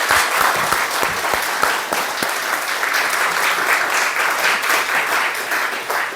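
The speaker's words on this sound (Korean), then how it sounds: "다시 한 번 더 큰 박수" A church congregation gives steady, dense applause for a sermon at a worship service, many hands clapping continuously for several seconds.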